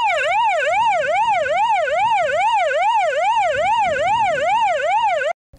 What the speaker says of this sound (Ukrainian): включали сирену і проблискові маячки